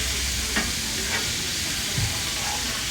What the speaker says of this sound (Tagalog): Ginigisa na natin.